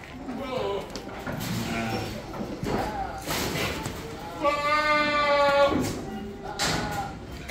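Goats bleating on a multilayer goat farm in Mumbra, several drawn-out calls rising over steady barn noise and thumps, with people talking throughout.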